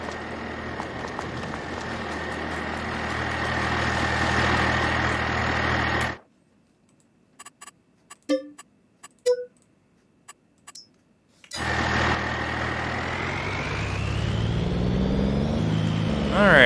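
A truck engine idles in Farming Simulator 22 as a steady low rumble, then drops out for several seconds of near silence broken by a few soft clicks before the idle resumes at the same level.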